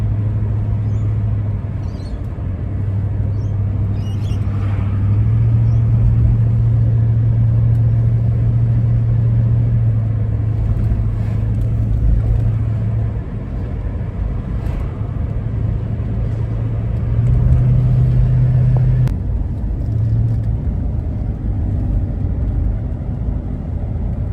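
Steady engine drone and low road rumble from an AU-series Ford Falcon ute towing a Studebaker Lark on a car trailer, a continuous near hum that swells slightly twice as the engine works harder, with no talking.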